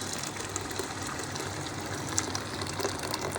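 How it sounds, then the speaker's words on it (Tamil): Hot water from a kettle pours into an electric rice cooker as a steady, soft gushing stream with faint splashes, continuous and fairly quiet, with no talking. "கெட்டிலேருந்து தான் ஊற்றுறேன்."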